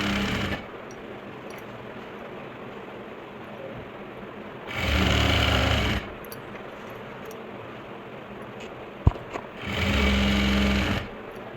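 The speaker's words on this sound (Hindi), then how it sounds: "तो ये मैंने सिलाई कंप्लीट कर ली है।" Sewing machine stitching an Afghani salwar in two loud, steady whirring bursts of about a second each, separated by quieter room noise and a sharp click, with no talking.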